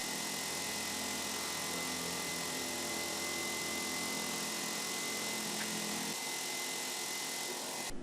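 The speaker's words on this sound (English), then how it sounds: "This hole is machined using a 3/8 inch end mill to precisely enlarge and countersink this hole to 16mm in diameter" A 3/8 inch end mill on a milling machine enlarges and countersinks a 16mm hole in a NEMA 24 end plate, giving a steady, continuous machining whine with no talk, its low hum dropping away near the end.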